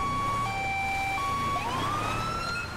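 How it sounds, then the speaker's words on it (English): A police siren in GTA 5 wails in steady alternating tones, then shifts into a rising sweep, loud and continuous over low engine rumble. "Don't need the siren like that."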